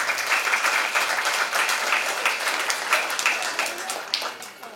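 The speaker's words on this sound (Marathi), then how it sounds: "जोरात टाळ्या वाजवा" A crowd claps at a Buddhist community ceremony in the Ulwe node of Panvel, producing moderately loud, dense, steady applause with a few sharper individual claps standing out.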